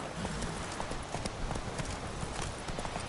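Steady clip-clop of a horse's hooves as a rider gallops in The Witcher video game, a continuous close rhythm of hoofbeats with no talk over it.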